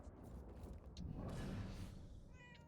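A cat trapped inside a vent in the video game Murdered: Soul Suspect meows faintly, with creaks and muffled mechanical noise around it.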